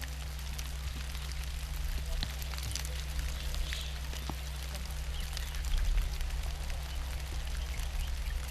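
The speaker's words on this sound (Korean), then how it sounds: "기적처럼 비가 내리기 시작했다." Rain begins falling in a remote rural village in India, an unseasonal November shower heard as a faint, scattered patter of drops over a soft steady background hiss.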